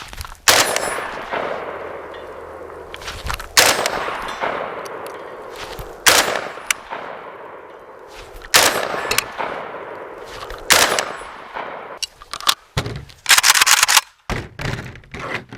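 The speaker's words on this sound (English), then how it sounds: "pick up your gun, rack your round. Now, present and fire." Handgun shots fired during shooting practice, loud sharp reports spaced a second or two apart, a rapid cluster near the end, each with a short echoing tail and no talk between.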